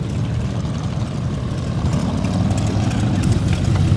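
A Yamaha R1 motorcycle engine idles up close at an underground bike meet in Tokyo, a steady low rumble that grows slightly louder toward the end, with no talking.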